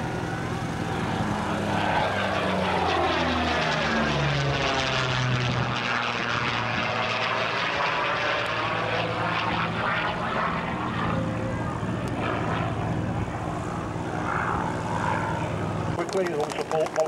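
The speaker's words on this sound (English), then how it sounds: "Peter Teichmann working hard for you in a fabulous Warbird" A propeller-driven warbird flies a display at the 2007 Little Gransden Airshow, its engine droning loudly and steadily, rising and falling in pitch as it passes, with a commentator talking over a public address throughout.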